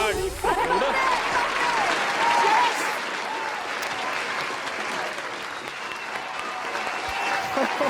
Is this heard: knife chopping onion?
no